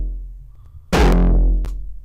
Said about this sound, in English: it kind of gives like a more crunch metallic sound to the kick